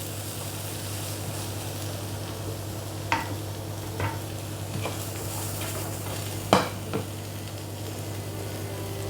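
Chicken browning in a pan for a Chinese-style stir fry gives a steady, quiet sizzle, broken by a few sharp clinks and scrapes of stirring.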